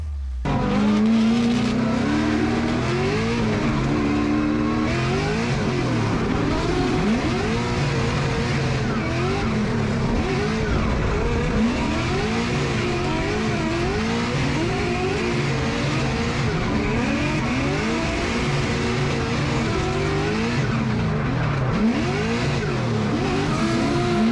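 A Formula Drift car sliding through a run at steep angle, engine revving hard and rising and falling while tires squeal continuously, loud and sustained with the roar filling the whole stretch.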